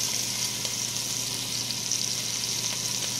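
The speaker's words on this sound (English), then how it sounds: "drop it in the pan. I'm gonna sear it" Filet mignon searing in a hot pan gives a continuous, even sizzle that stays close and steady throughout, alone with no speech.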